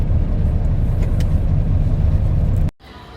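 Steady low vehicle rumble heard from inside a bus on the road, loud and continuous, then cutting off abruptly near the end.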